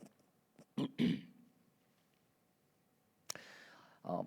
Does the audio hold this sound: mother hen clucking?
no